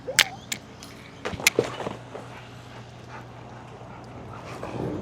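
German Shepherd dogs bark in a few sharp bursts during a training session, with a cluster near the start and another pair a second later, followed by quieter shuffling and low background noise.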